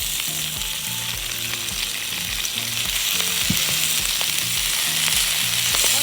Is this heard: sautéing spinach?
yes